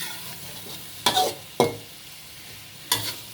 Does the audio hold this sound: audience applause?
no